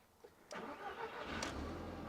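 An Audi TT engine cranks over briefly and catches, then settles into a rough, steady idle heard close by, with no one speaking.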